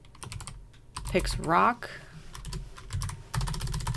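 Keys clatter on a computer keyboard in quick, irregular bursts of close clicks, while someone talks briefly over the typing.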